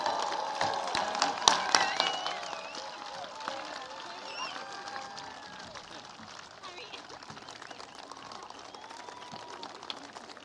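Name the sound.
audience applause for graduating class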